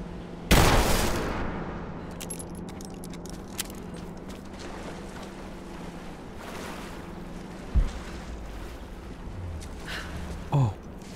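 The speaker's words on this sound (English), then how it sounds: "I'll probably have to shoot it" Gunfire in the video game Rise of the Tomb Raider, one sharp loud shot at the start followed by a couple of fainter bursts later, over a steady ambient cavern background.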